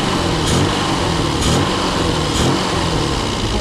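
A classic Mini Cooper RSP engine idles roughly and lumpily, a steady, close, fairly loud running note with a faint uneven pulse about once a second and nobody talking.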